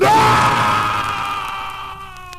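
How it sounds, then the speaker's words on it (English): A long, loud, sustained scream from a horror film trailer for The Telltale Heart, a single high wailing cry that holds and slowly fades over a couple of seconds. "He hasn't stopped screaming in 2 weeks."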